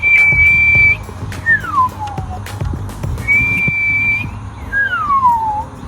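A man whistles imitations of bird song: clear, loud, close whistled notes, a long steady tone followed by a downward-sliding phrase, repeated twice over faint outdoor background noise.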